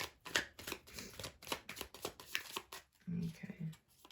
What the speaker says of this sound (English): let's pull a few more cards for Scorpio